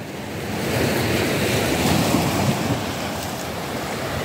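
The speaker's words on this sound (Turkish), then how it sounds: "Deniz bayağı hareketli, bulanık." Rough, choppy sea waves wash and roll onto the shore in a steady, loud surge with wind noise over the microphone, and no one speaks.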